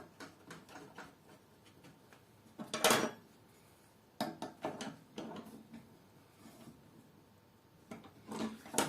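A big wrench tightens the collet on a Scheppach HF60 tabletop router, producing scattered close metallic clinks and clatters of tool on metal parts, with irregular handling knocks and pauses between them.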